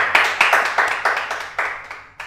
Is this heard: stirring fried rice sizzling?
no